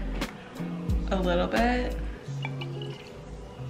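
Bragg's apple cider vinegar pours into a glass in short trickling, dripping bursts, close by, with a person talking over the liquid sounds.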